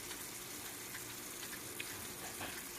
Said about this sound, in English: I've got my steak laid out cooking.